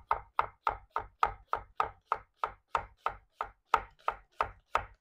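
A vegetable knife chops an onion on a board in a quick, even run of about fourteen sharp, close taps, each one a crisp knock with a short decay.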